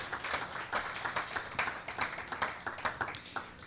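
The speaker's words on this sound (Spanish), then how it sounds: "Vamos a dar un aplauso fuerte al Señor." A church congregation claps for the Lord during a Spanish-language service, a steady run of rhythmic, fairly quick handclaps that stays soft and even throughout, with no voices over it.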